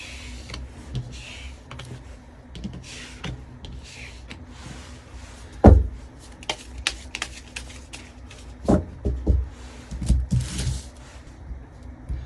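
Tarot cards are handled and drawn during a reading, with soft scattered taps and papery flicks. A few sharper snaps come in the second half, close and fairly quiet, with no talking.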